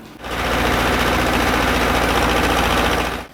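A tractor engine runs steadily while clearing self-seeded trees between rows of a young forest plantation in Vinnytsia region, a loud continuous rough drone that starts and stops abruptly.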